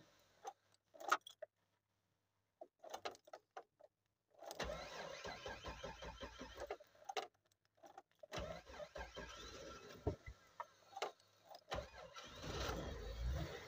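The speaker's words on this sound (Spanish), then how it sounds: "La vamos a volver a dar y la vamos a acelerar para que arranque." A car engine cranks after a new starter cable is fitted, with clicks and key jangles first, then long strained cranking bursts that finally catch and run with revving.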